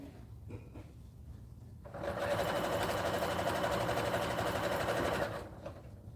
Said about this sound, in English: I'll come down here and sew a little bit